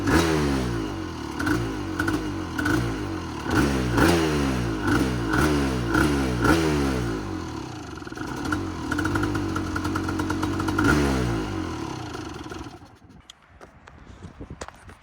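A 2-stroke hybrid quad engine idling roughly nearby with a lumpy, uneven putter and repeated surges of revving, then settling and fading as it cuts off at the end.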